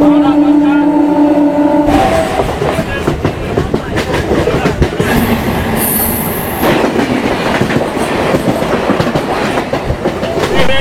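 A local train in West Bengal runs at speed, with a loud, steady, close rattle and clatter of wheels on track and brief high squeals partway through.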